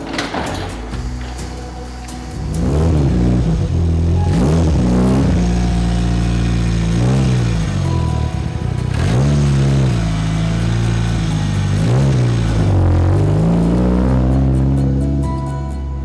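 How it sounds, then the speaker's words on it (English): A Mitsubishi Evo engine revs repeatedly on a test drive, rising and falling in several loud surges over a steady low rumble, close and with no talk. "So taking the Evo out for a little test drive"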